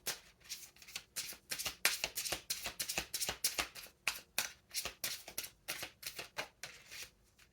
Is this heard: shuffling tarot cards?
yes